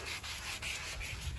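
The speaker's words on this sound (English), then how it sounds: "block sanding" Block sanding of cedar wood for a rustic coat rack makes soft, rhythmic back-and-forth rasping strokes, quiet and close with no voices.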